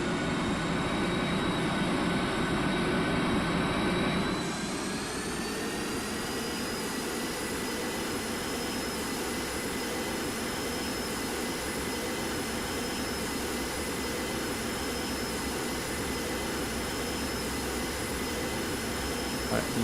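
An Airbus A350-1000's jet engines spool up for takeoff on a runway in the GeoFS flight simulator game, a steady loud whine and roar whose pitch rises and then holds, continuing for about twenty seconds.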